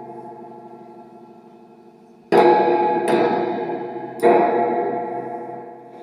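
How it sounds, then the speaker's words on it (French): Amplifier with its echo or spring reverb turned up, struck three times with a screwdriver, each tap giving a sharp crash that rings and decays over a steady hum, close and alone. "c'est une caisse d'écho"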